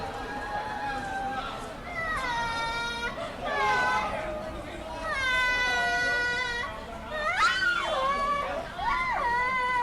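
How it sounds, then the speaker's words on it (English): A frightened child cries at a crowded street protest in Hong Kong, with repeated wailing bursts of rising and falling pitch rising above steady crowd chatter and nearby voices. "we hear a child crying"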